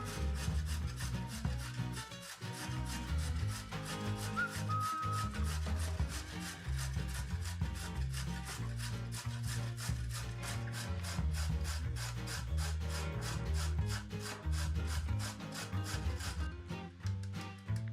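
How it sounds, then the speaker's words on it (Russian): A carrot is grated on a coarse grater in a kitchen, a long steady run of quick, regular rasping strokes, close and continuous, with no talk. "на крупной терке натрем одну морковь"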